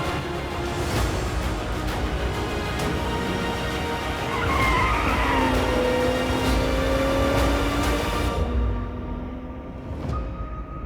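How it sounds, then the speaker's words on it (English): A Toyota Supra on sport tires spins its wheels, a loud sustained engine roar with rising tire squeal and skidding that swells midway, then fades toward the end. "It's amazing that you can light up the wheels like that"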